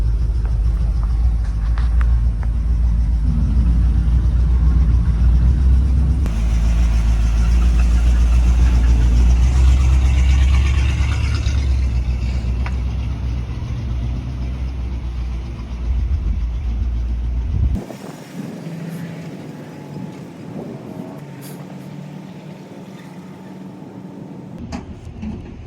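A 1961 Cadillac hearse engine runs with a loud, steady low rumble while the car is driven into a trailer, then drops to a quieter, more distant hum.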